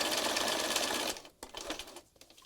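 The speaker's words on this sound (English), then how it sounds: "a little zigzaggy kind of with my sewing machine" A sewing machine runs zigzag stitching through a mixed-media scrappy collage card, a fast continuous whirring buzz for about a second, then short stop-start bursts as it slows.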